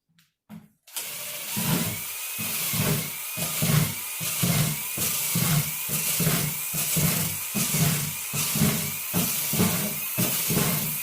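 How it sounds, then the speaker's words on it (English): A drill bores holes in a homemade plastic worm bin, with repeated short whirring bursts in a steady rhythm, loud and close, no talk. "well that is fully drilled out"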